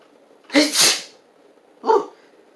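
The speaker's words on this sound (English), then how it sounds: "Oh no, I need to sneeze." A person sneezes close up, a sharp two-part burst followed a moment later by a shorter exhale, with quiet background between.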